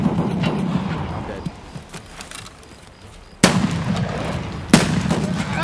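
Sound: gunshots in the video game Escape From Tarkov

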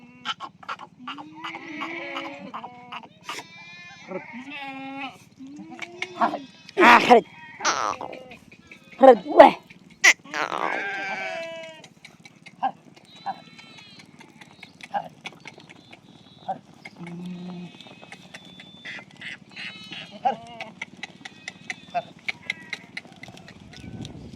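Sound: goats bleating

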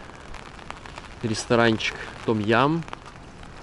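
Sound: rain falling on a windy seafront

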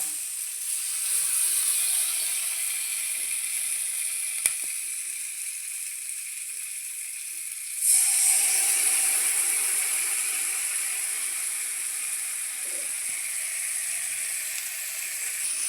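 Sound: spices sizzling while frying in a pan

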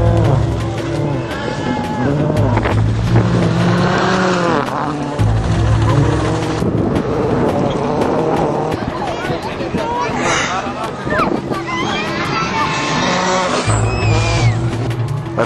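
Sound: rally cars racing on a stage of the Rally of Mexico

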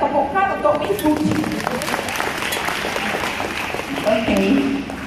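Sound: audience applause for a speaker

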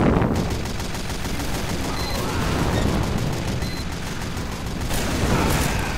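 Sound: gunfire and explosion in video game Team Fortress 2

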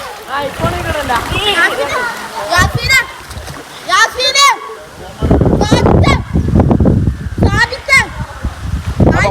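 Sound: children splashing while bathing in a pond

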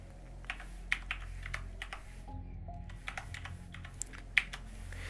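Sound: typing on a computer keyboard

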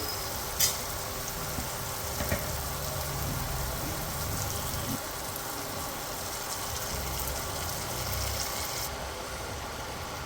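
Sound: turnips added to sizzling tomato tempering

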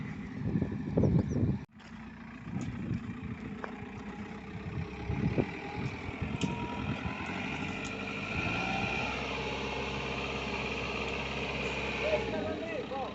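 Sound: JCB 3CX backhoe loader engine running while testing drive axles

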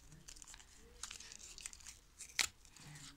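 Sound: paper surprise packet being torn open

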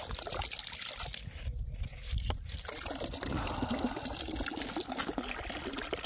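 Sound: natural spring water flowing from a pipe

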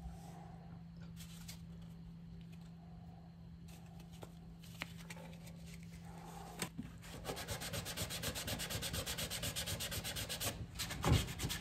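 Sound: hand sanding wooden dresser feet with sandpaper

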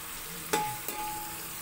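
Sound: tomatoes being mixed while frying in a pan

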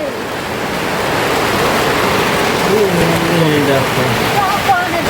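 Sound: heavy rain falling outside

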